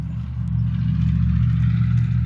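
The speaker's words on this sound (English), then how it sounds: "the car or the truck going by" A car or truck passes along a road, its low engine rumble rising and holding steady, fairly loud and close throughout.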